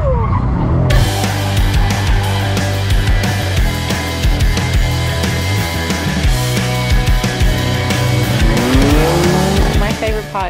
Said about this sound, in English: flooring the car into that little track is so fun